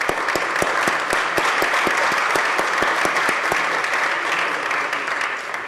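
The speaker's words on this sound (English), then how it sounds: "Let's give them a round of applause" Loud, dense applause fills the New York State Senate chamber, with a few crisp, close claps standing out over the steady roar of the crowd before it gradually thins.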